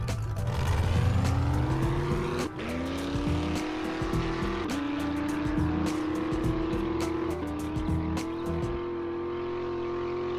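Supercharged car engine in the game 7 Days to Die, revving loudly and steadily with pitch climbing in several stepped surges, close and continuous with no talk.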